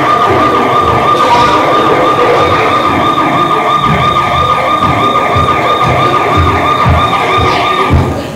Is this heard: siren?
yes